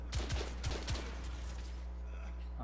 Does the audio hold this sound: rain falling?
no